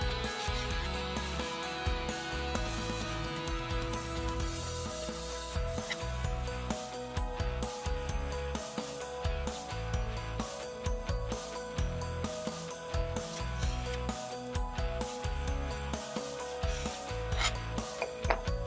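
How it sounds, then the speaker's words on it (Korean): A knife slicing roast beef thinly sounds as soft, steady rasping and rubbing strokes repeated over and over at close range, with faint scrapes against a board and no talking. "벗겨내고 얇게 썰어서 접시에 담아줍니다"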